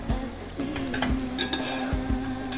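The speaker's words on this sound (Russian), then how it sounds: "Сейчас перемешаю и добавлю соль." Homemade eggs stirred in a pan, with steady sizzling frying under a series of scraping stir strokes, close and moderately loud.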